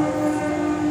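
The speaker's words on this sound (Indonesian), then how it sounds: "kereta. Kereta lewat." A train passes near a station, a steady rumbling drone with a sustained horn-like tone held throughout, no speech.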